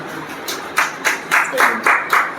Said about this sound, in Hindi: इनके लिए जोरदार ताली हो जाएगी एक बार